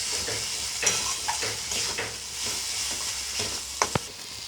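Small chuno fish curry frying in a pan and stirred: continuous bright sizzle with intermittent scraping and clinking strokes of a spoon against the pan, close up and without speech.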